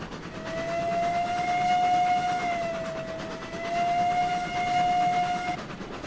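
A train rolls along with a steady rumble in the RailRoads Online video game while its whistle sounds two long sustained blasts, loud and close, with no talking.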